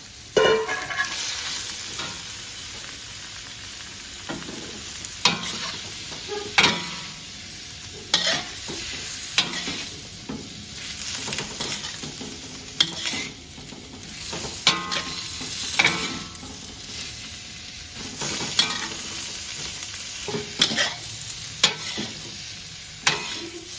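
A pan of blanched vegetables and wood ear mushrooms is stir-fried for a Thai mixed vegetable dish with shrimp: a spatula scrapes and tosses repeatedly over a steady close sizzle, with no talking.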